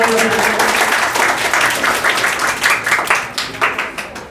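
Audience at a school Republic Day celebration breaks into steady, dense applause, many hands clapping together close by, holding loud throughout and thinning slightly toward the end.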